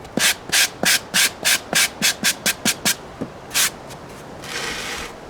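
About a dozen short, rhythmic sanding strokes rasp close by on the nose of an RC model airliner, steady then quickening, followed by a pause and a softer brushing rub.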